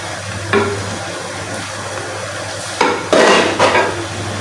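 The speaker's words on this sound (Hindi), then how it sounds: "और हल्के हाथ से जो चम्मच है उसको हिलाते जाएंगे।" A spoon gently stirs a bread gulab jamun mixture in a pan, making a few soft scraping strokes and clinks against the metal over a steady low hum, louder toward the end.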